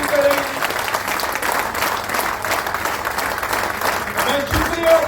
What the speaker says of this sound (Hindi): भरपूर क्लैपिंग करें।